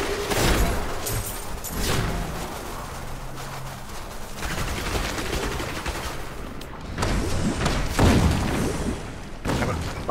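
Rapid bursts of explosions and impacts in the action game Diablo III, loud dense clusters of booms and crackling hits layered over continuous game noise, with heavier bursts near the start and later on.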